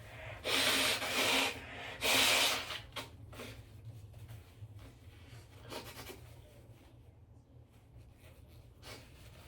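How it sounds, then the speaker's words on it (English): A person blows their nose in two loud, close, breathy blasts near the start, followed by quieter rustling and soft sniffing against a low background hum. "I'm gonna blow my nose."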